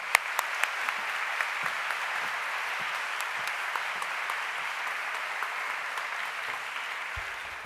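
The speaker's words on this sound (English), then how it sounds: "let's please give her a round of applause" A large crowd applauding steadily, a broad wash of clapping that holds at even strength and begins to fade right at the end.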